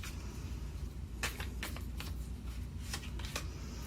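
Tarot cards are shuffled and drawn in a quiet room, with a series of crisp riffling and snapping bursts at uneven intervals close by, over a low steady hum and no talking.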